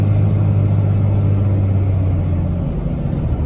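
Cummins-swapped truck engine labouring up a steep hill in first gear with an automatic transmission, a steady, loud low rumble that holds without a break and never revs up.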